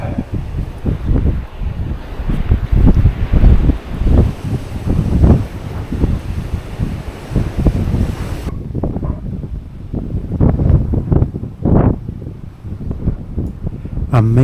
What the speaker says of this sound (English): It's getting a bit windy up here now.